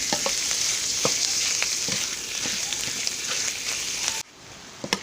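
Pork stir-fried with pickled bamboo shoots sizzles loudly and steadily in a hot pan, with scattered utensil scrapes and clacks, until the frying noise abruptly drops near the end.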